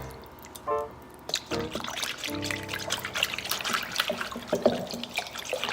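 A tablespoon of honey is spooned into balsamic vinegar, with soft trickling and dripping plus light clinks of utensils, close and quiet, with no talk.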